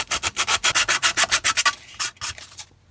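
Rough sandpaper rasps against the grain on a Tamiya F150 Ranger model interior part, a quick steady run of about twenty short scrubbing strokes, close and fairly loud, slowing and pausing near the end.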